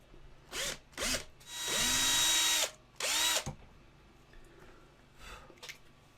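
A handheld drill bores holes in a resin model kit in a series of short bursts, two quick ones, then a longer whirring run and another short burst, each spinning up and down, close and clear.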